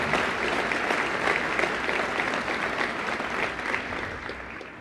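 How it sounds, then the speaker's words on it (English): Audience applause for Montana Tech at the Montana Jobs Summit: a steady, dense wash of clapping from a crowd that holds an even level throughout, with no voices over it. "Let's really let them know, big round of applause, how much we appreciate Montana Tech."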